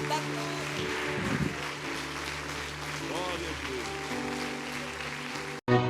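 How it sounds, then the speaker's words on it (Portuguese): A church congregation applauds during a worship service, a steady wash of clapping that runs under sustained music and a voice, then cuts off abruptly near the end. "Vamos aplaudir a glória de Deus"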